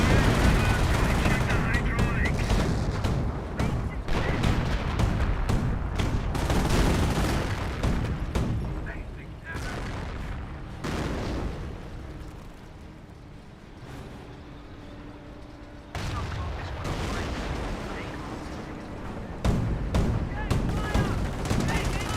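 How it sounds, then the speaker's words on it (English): Machine-gun fire from British infantry in the Company of Heroes 1 video game, sustained bursts rattling over a busy battlefield mix with artillery booms, loud and dense, easing off midway before resuming. "British Infantry 4 got the MG firing away."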